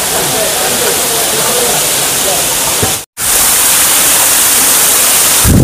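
A waterfall at the Jwala Narasimha Swamy temple in Ahobilam roars as a loud, constant broadband rush with one brief dropout near the middle.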